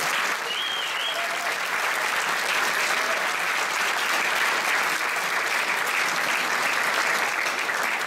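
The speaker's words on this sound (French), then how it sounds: "Il faudrait qu'on applaudisse très fort à la présentation" An audience at a wind band concert in Montrichard applauds with sustained, dense clapping that stays loud and even throughout.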